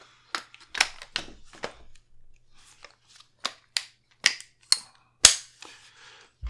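A Radian Weapons Model 1 rifle being put back together gives off a series of about ten sharp, close metallic clicks and snaps, spaced irregularly with brief quiet gaps between them.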